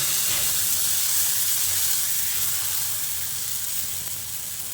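A flour-and-egg snack fries in a pan with a dense, steady sizzling hiss, close and fairly loud, fading slightly toward the end, with no voices.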